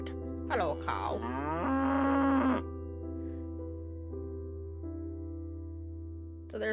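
A cartoonish cow moos twice in the puzzle game Rusty Lake The Mill, the long, wavering calls rising and falling over a steady low background tone, followed by quieter game ambience and a faint chime.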